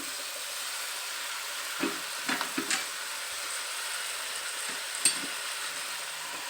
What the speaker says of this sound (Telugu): ఇది ఫ్రై అయ్యేంత వరకు కలుపుకుందామండి